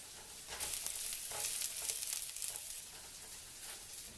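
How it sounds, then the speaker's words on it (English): Peppers stir-fry in a pan for faux yakisoba ramen, a soft continuous sizzle with light scraping of stirring heard close by, without talk. "After that's cooked for about a minute or two, add the peppers."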